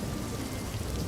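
Storm rain pours steadily in a dense, even hiss, with low rumbling undertones suggesting distant thunder, continuous and fairly loud with no voices.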